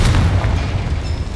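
A Confringo fire spell detonates in Hogwarts Legacy, a loud, deep booming blast at the start that rolls into a sustained low rumble with no speech.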